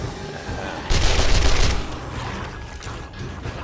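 SMG gunfire from the 7 Days to Die console version during a chaotic horde night: a loud burst of rapid shots lasts about a second, then fades into a rumbling, noisy din.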